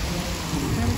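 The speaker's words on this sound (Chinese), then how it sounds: "下雨，比较没有那么大" Light rain falls at a busy Luodong night market in Yilan, Taiwan, a steady close hiss of drops filling the whole short moment.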